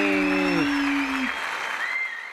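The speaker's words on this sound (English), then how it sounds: "They deserve a really grand applause." Applause from a small group, opening with a voice calling out over it, then a dense wash of clapping that thins slightly toward the end.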